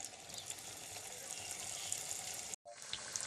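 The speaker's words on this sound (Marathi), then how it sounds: "आता या वड्या तळून घ्यायच्या." Drumstick leaf vadis fry in hot oil in a kadhai, giving off a steady, close, even sizzle that drops out for a moment near the end.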